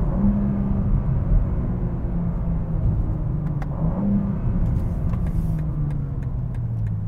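A G87 BMW M2 with a ZF 8-speed automatic transmission gives a steady engine rumble from inside while driving, its pitch rising and falling as it shifts through the gears.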